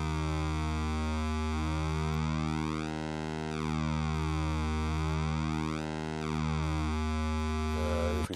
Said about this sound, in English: So now we're hearing just the first oscillator.